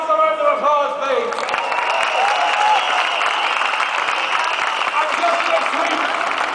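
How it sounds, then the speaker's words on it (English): A crowd at an outdoor Right to Water protest demonstration on College Green, Dame Street, breaks into sustained applause after a speaker's voice, the clapping steady and fairly loud throughout. "I'd like you to give all those a round of applause, please."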